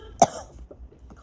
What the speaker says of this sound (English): Coughing up a storm here.